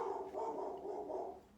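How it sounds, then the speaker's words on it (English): A female dog barks in a home, a short run of muffled, somewhat distant barks that blur together over about a second and a half with no voices. "That's my bitch barking."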